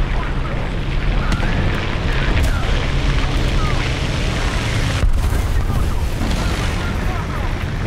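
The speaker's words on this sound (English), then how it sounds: "Get some arty up on the tank destroyer up on the hill." Artillery explosions and battle noise in the War Thunder tank game, a dense continuous roar with heavy booms, one strong blast about two-thirds through, and a voice talking over it.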